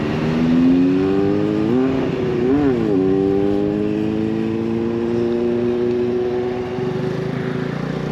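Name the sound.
Honda Navi motorcycle riding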